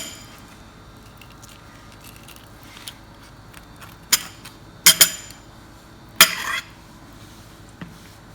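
Metal utensil clinks against a bowl while avocado is scooped with a spoon or knife for homemade guacamole, a few sharp close taps and scrapes spaced apart over quiet room tone.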